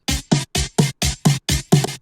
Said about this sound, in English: a drum fill